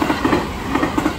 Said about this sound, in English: there's a train coming and the train just went that was so fast